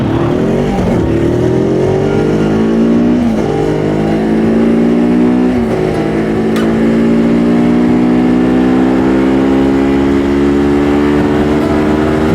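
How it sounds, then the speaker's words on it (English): A loud truck passes close by on a hot morning ride, its engine roar rising with rapidly shifting harmonic tones that climb and settle, sustained and strong for the whole stretch with no talking. "That's a loud truck."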